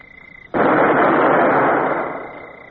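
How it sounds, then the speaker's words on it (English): A ship's cannon fires at a vessel: after a quiet moment, one sudden loud blast breaks out and booms on for about two seconds before slowly fading. "Well, I believe we can open fire, Mr. Davy."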